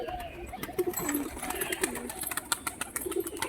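Pigeons, including a tumbler pigeon, coo softly at close range in soft repeated throaty bursts, mixed with light wing flutters and small clicks in a quiet loft.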